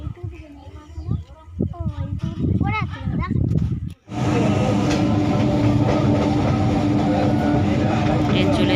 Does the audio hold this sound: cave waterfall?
no